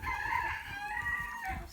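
Rooster crowing among a flock of Orpington and Hamburg chickens, a single sustained, fairly close crow that holds steady for nearly two seconds with no talking.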